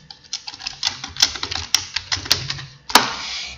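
Keys on a computer keyboard are tapped to enter a password, a quick run of about a dozen crisp, uneven clicks, close and alone, ending with a firmer final keystroke.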